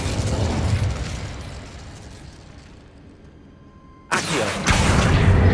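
Incendio fire spell cast in Hogwarts Legacy: a fiery whooshing burst fades away to near quiet, then a sudden loud crackling blast of flame erupts and roars on to the end.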